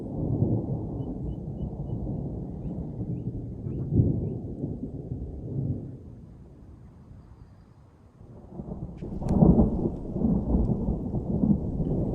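Long, deep rolls of thunder from a thunderstorm at a wilderness campsite, rumbling steadily, easing off into a near lull, then swelling again with a sharper crack and continued heavy rumbling.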